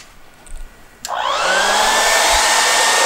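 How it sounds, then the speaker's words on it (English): A handheld hair dryer clicks on after a moment of quiet room tone, then blows a steady, loud whooshing stream of air close by with its motor whine underneath, no one speaking. "if I simply take a hairdryer"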